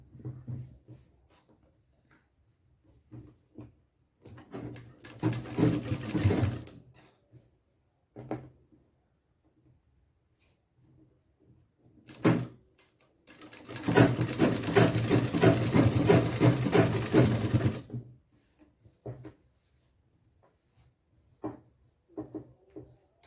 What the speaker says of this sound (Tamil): இந்த தையிலே ஒரு ஸ்டிச் போட்டுக்கணும்.